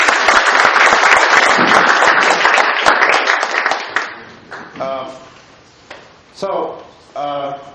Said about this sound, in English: I think we owe applause to whoever was part of that